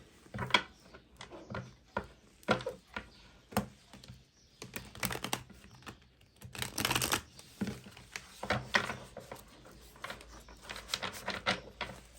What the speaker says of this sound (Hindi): यहाँ से भी मैं 5 कार्ड्स निकाल रही हूँ।